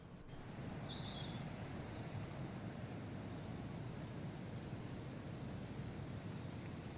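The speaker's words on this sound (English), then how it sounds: "I like the white noise in that." Steady, soft wind noise with a broad hiss, with a few faint high bird chirps near the start.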